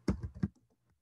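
A quick burst of three or four soft keystrokes on a computer keyboard, close and quiet, fading into near silence.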